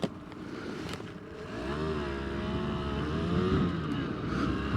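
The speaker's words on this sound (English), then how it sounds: "Let's see what it's like when we ride" A 2022 Rieju MRT 50 LC motorcycle pulling away, its small 50cc engine buzzing steadily and rising in pitch as it accelerates, heard continuously up close with no talk.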